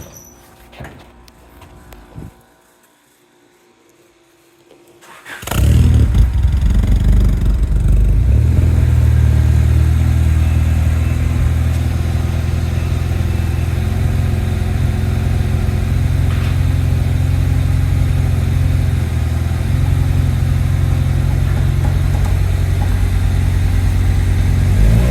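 Honda Civic EG hatchback, recently repaired for fuel pump issues, with quiet handling noise before the engine cranks and catches about five seconds in, then settles into a steady, loud, close idle that runs to the end.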